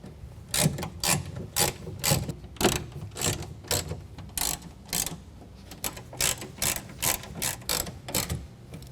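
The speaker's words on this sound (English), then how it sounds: "then we're going to tighten it down with a T30 Torx bolt" A ratchet clicks in quick, regular bursts close by, each stroke a sharp rattling run as T30 Torx bolts are tightened on the bed rail of a 2022 Toyota Tundra while a BAKFlip MX4 tonneau cover is installed.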